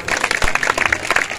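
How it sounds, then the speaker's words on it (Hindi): Brief burst of loud clapping from a congregation at a prayer festival sermon, dense and close. "जोरदार तालियां"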